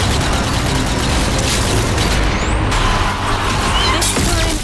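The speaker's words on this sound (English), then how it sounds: "Some grenade throwing." Grenade explosions in the zombie shooter Zombie Army 4: Dead War, heard as loud, dense booms and blasts under a constant wash of game noise, with no gaps of quiet.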